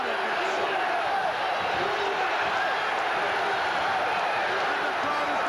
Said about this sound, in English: And the crowd is going bananas.